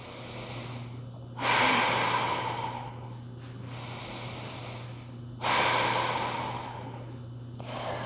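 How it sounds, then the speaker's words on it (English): A person doing yoga breathes deeply and slowly. Long airy inhales and exhales alternate in a steady rhythm, close to the mic and over a low background hum, with no talking. "Nice deep breaths here."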